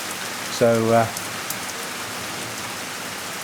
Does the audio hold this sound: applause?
no